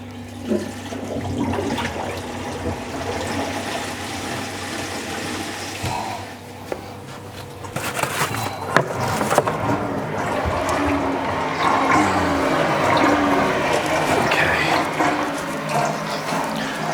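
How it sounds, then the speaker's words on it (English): A strong return pump in the sump of a Red Sea Reefer G2 525 reef aquarium sucks air while the tank is being filled, giving a continuous churning, gurgling, mechanical rattle of water and bubbles that swells louder partway through. "So you can see that our sump is actually sucking air, or pump is sucking air."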